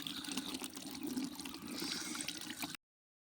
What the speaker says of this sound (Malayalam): ഇതിലേക്ക് നമ്മളിത് തികയാത്തതുകൊണ്ട് കുറച്ചും കൂടെ വെള്ളം ആഡ് ചെയ്യുന്നുണ്ട്,